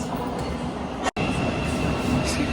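A London Underground train runs with a loud, steady roar and rattle heard from inside the carriage, cut by one brief dropout in the middle.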